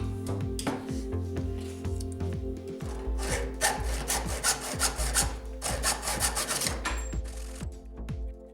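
Pins on a forged chef's knife handle are cut off by hand, giving repeated rasping back-and-forth sawing strokes in a steady rhythm, close and fairly loud, with no talking.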